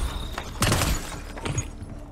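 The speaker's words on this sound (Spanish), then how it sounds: "Si le disparamos a estos cristales podemos conseguir restos" Glass windows shatter under gunfire in Black Ops 6 Zombies, with loud bursts of breaking and crashing impacts clustered in quick succession.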